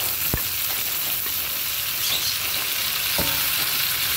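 Pre-boiled pork ribs with their broth hit a hot pan for Filipino pork caldereta, giving a loud, continuous sizzle broken by two sharp utensil knocks.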